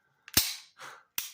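A Smith & Wesson Model 645 pistol is handled as it is checked and cleared, producing three sharp metallic clicks and a slide-like rasp in quick succession, close and isolated.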